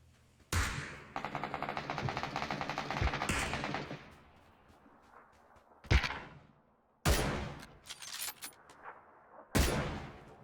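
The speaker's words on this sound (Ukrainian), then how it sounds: "Там стріляє вже тип." Automatic gunfire in a PUBG squad match: a long rattling burst of rapid shots, then several sharp separate bursts, loud and close.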